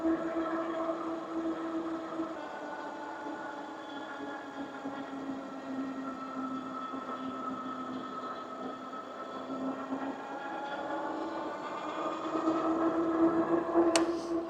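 A Kingbull Hunter 2.0 fat tire electric mountain bike running at throttle-only top speed gives a steady whining drone with a constant low hum and rolling noise, loud and unbroken for the whole stretch, with no talking.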